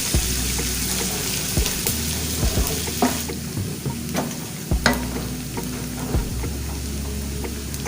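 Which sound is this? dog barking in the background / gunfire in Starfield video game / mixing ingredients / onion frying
onion frying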